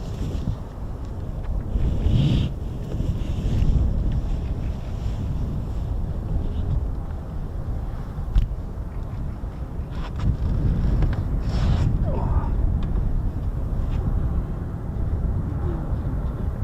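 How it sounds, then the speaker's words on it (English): Gusty wind buffets an outdoor microphone at a naval air station, a steady low roar with rougher surges throughout, loud and continuous with no one speaking. "starting to pick up the wind now, which is not nice"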